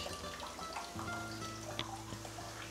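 Water drips and trickles through a freshly watered garden in Córdoba, Spain, a steady wet pattering with faint scattered drops close by, alone without voices.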